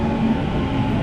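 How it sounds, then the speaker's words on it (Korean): A Sydney commuter train pulls into the station platform, heard as a close, loud, steady rumble with a low mechanical hum, brief and continuous throughout. "트레인이 왔습니다."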